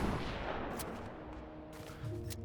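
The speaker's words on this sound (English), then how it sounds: "A lot of firing" Gunfire in the Fortnite video game, a dense, rumbling burst of shots with sharp cracks on top, steady and fairly loud throughout, with no talk.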